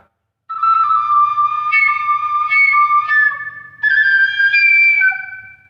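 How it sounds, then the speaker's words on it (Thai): A Thai bamboo flute blown too hard gives a shrill, unstable whistling tone that jumps upward in pitch, heard alone and close with a breathy low rumble beneath. "ถ้าคุมไม่ได้มันจะหอนขึ้นข้างบน มันจะหวีดขึ้น"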